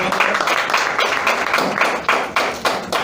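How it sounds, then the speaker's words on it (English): Crowd applause at a Formula 4 Southeast Asia racing event at Clark International Speedway, greeting a championship-leading driver; dense, steady clapping with a few rhythmic surges, loud and close. "Give him a big clap."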